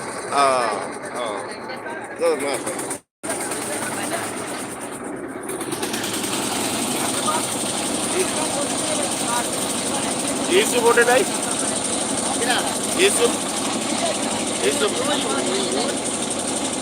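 A passenger trawler boat's engine runs with a steady, droning hum that carries on throughout, while people talk nearby on board.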